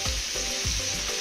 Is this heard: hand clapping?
no